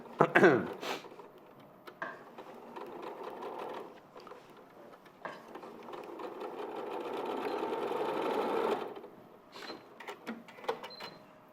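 A sewing machine stitches fabric in a tapered curved seam, running in close, steady mechanical bursts that speed up and hold, then stop, with a few clicks and handling noises between runs.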